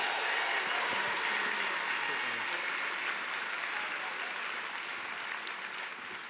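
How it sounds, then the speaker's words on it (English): Steady audience applause at a Mayo GAA supporters' evening, a dense, even patter of many hands clapping for the full stretch, fading only slightly toward the end, with no talk over it. "So give a big round of applause to Michael D. McAndrew and Angelina Nugent."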